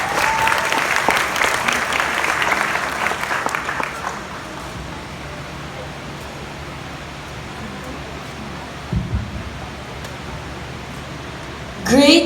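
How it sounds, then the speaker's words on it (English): Resounding applause from an audience at a graduation-style batch ceremony, loud and dense for about four seconds before fading to a low crowd murmur, with a brief burst of noise near the end. "Let us give him a resounding applause."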